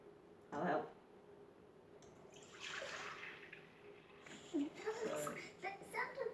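Milk is poured into a bowl of crumpet batter, splashing and gurgling at low volume, while a voice and other voices talk over it.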